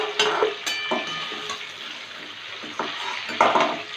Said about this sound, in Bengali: এইভাবে চিকেন ভেজে নিলে চিকেনের যে একটা গন্ধ থাকে